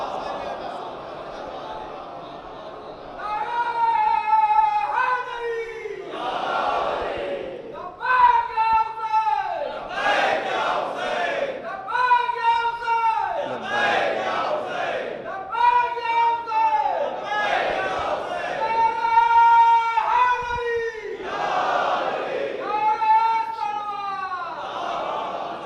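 An audience at a religious majlis gathering chants slogans together in repeated rhythmic waves of many voices, loud and sustained, with brief pauses between calls.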